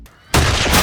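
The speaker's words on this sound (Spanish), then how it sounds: "Los disparos comienzan y el granjero defiende su tierra junto a un grupo de hombres." A sudden loud burst of Old West gunfire after a quiet moment, continuing as a dense, sustained barrage.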